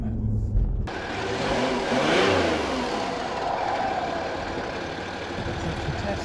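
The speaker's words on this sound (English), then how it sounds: "Let's build up the revs." A Land Rover Discovery 3 engine, newly remapped, revs up while driving, a throaty mid-range drone that climbs and swells in pitch, heard from inside with steady road rumble.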